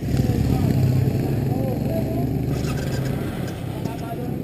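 Royal Enfield Classic 500 motorcycle, 2019 base model, idling with a steady low thumping engine note close by, with someone speaking over it.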